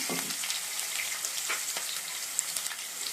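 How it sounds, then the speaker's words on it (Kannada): A tempering of mustard seeds, curry leaves, chilli, garlic and onion sizzles in hot oil, a soft, even frying hiss with faint crackles and no talking. "ಇವಾಗ ಒಗ್ಗರಣೆ ಇದೆ ಇವಾಗ"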